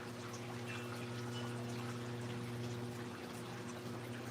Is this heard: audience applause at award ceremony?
no